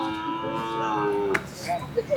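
A Kangayam cow lows at a livestock market, one drawn-out moo up close followed by shorter lower calls and faint market noise.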